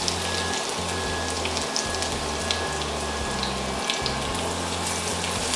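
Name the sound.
chopped garlic added to hot oil, sizzling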